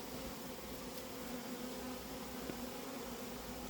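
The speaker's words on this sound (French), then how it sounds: "C'est un essaim qui vient de Orly ce matin." A swarm of honeybees that came from Orly gives off a steady, dense buzzing that fills the whole stretch evenly and close by, with no talking.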